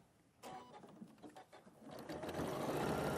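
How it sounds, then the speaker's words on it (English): A sewing machine starts up and runs steadily, stitching a 1 cm seam on a bag, its motor whir rising and growing louder up close. "we are just going to now sew our 1 centimetre again, flip,"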